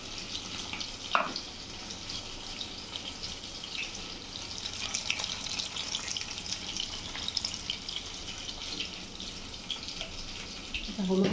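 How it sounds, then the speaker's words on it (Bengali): Katla fish rubbed with salt and turmeric frying in a pan, a steady broadband sizzle running throughout at moderate level, with a brief clatter near the start and another knock at the end. "কাতল মাছ লবণ হলুদ দিয়ে মেখে ভাজা বসিয়ে দিয়েছি।"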